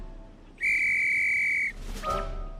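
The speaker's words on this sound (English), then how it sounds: "Kip blew his whistle." One sharp, steady whistle blast sustained for about a second, loud and close, followed by a brief softer sweeping tone over a quiet background, with no talking.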